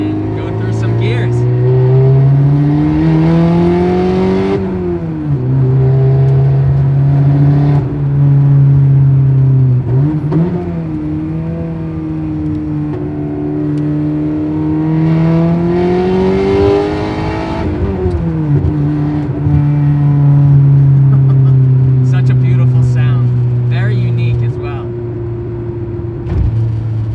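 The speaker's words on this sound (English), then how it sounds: "You can go from the track right to the street and go through some gears." Porsche 944 Turbo Cup race car accelerating hard through the gears, its loud engine climbing in pitch, dropping at each shift and climbing again, close to the microphone with no talk over it.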